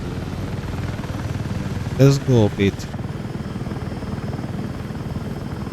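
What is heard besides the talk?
helicopter in video game Battlefield 6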